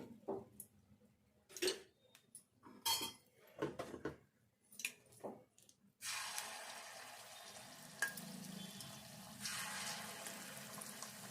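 Rice flour bonda batter drops into hot oil and fries with a steady close sizzle over the last few seconds, after a stretch of intermittent clatter and stirring noises.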